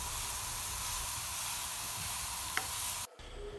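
Grated carrots fry in a pan for a filling, giving a steady, close sizzling hiss with faint stirring that cuts off abruptly near the end.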